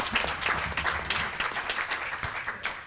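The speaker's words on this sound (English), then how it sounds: "we should just kind of all give ourselves a round of applause for being here" An audience at an academic gathering gives itself a round of applause, a dense, moderately distant patter of many clapping hands continuing throughout.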